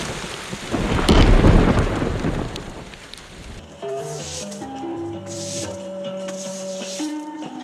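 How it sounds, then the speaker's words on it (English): Heavy rain pours down with a thunder-like roar for a few seconds, then stops abruptly as a gentle melodic tune begins. "The rain."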